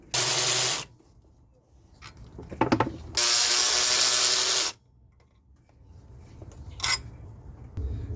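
Ratchet loosening 15mm bolts on the belt tensioner of a Chevy Tahoe 5.3L, with two long loud buzzing ratchet runs and a few short clicks and clanks in between, close by.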